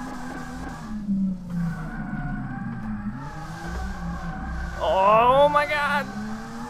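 Car drifting in the racing game DRIFT21 with a V6 engine swap, steady engine drone under an excited voice, then a rising tire squeal with a sweeping pitch bend near the end.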